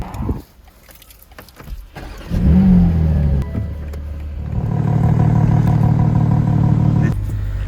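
A BMW M340i engine turns over and revs to a deep, smooth low exhaust rumble, then settles into a steady idle.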